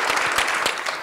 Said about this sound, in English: so give him some applause, please